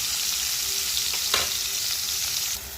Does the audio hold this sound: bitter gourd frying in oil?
yes